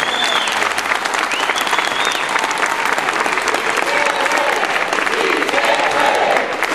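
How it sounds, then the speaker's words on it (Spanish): Loud, dense applause from a political rally audience in Cuauhtémoc, sustained throughout with crowd noise and some whistles mixed in. "Creo que nos merecemos un fuerte aplauso"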